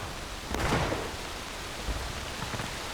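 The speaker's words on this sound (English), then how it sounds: "The rain's coming down. Dynamic weather." Rain falls in the War of Rights video game as a steady, dense hiss, with a soft low rumble swelling briefly near the start.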